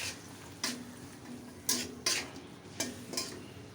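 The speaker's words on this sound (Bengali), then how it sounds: "সামান্য জল দিয়ে মশলাটা ভালো করে কষিয়ে নেব।" Spice paste of turmeric, coriander and chili powder with green chilies being stirred in a pan with a little water, a few soft scraping strokes and light sizzling, quiet and close.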